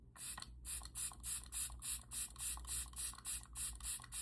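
Rapid repeated spritzes of a Makeup by Mario setting spray bottle, about a dozen quick pumps in steady rhythm, close and crisp with a faint hum beneath.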